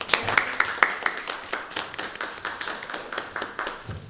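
An audience at a Ukrainian gathering applauds to honour a new doctor of philosophy. Clear, close hand claps come in a steady rhythm at first, then spread into a broader round of clapping.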